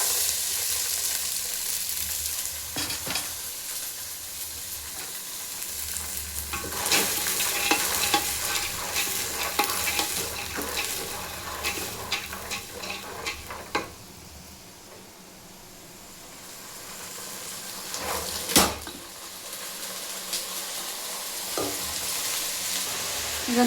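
Lentils frying in ghee in a pan and being stirred give a steady close sizzle with scraping stir strokes throughout, easing off briefly midway before a sharp clatter and renewed frying.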